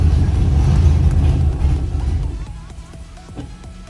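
An LS V8 swapped into a Nissan 350Z runs loud and close, a heavy low rumble that gradually eases off, with some voices talking over it.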